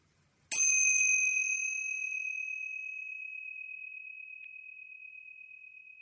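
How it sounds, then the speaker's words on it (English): A single tincture bell, struck once, rings out clear and close, its bright pure tone sustaining and slowly fading over several seconds in an otherwise quiet space. "I like to ring the tincture bells to clear out any negative energy and create a pure, sacred space"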